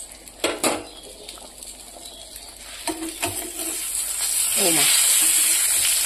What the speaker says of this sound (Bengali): এবার জিরে বাটাটা দিয়ে 2 মিনিট টক বগিয়ে জাল দেবো